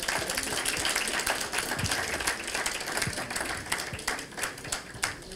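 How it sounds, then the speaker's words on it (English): A Ghana property and lifestyle expo audience claps in a sustained, moderately distant round of applause, with scattered louder individual claps as it tapers off and a voice faintly underneath. "Let's give them a round of applause as they come."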